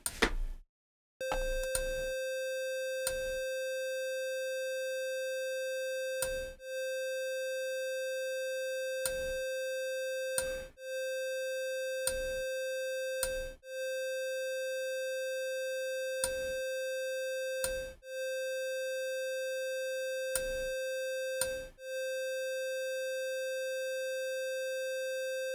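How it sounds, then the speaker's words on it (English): A steady synthetic sine tone, distorted and aliasing with harsh overtones, drones on, broken repeatedly by brief clicks and clipping dropouts, buzzy and distorted throughout. "I will just play the sine wave again, and then I will increase the oversampling factor"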